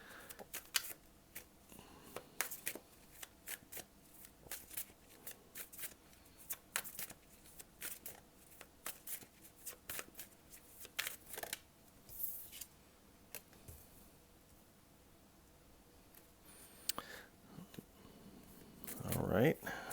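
Yogic Path tarot deck cards being shuffled close by, soft repeated papery riffles and snaps in quiet bursts, with faint speech and a louder rustle near the end.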